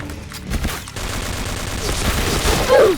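Gunfire from the PB K-3 in a shooting video game crackles in fast, loud bursts against busy battle noise, with a voice speaking over it.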